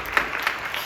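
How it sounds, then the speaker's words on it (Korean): Church congregation at a Korean Full Gospel service clapping in applause, a brief light patter of hands with a few sharper claps standing out. "영상으로 예배하는 분들 박수로 격려해 주시기를 바라고요"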